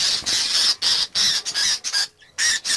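A frightened budgerigar with a damaged wing squawks loudly and repeatedly at close range, in harsh bursts separated by short gaps, with one brief quiet pause near the end.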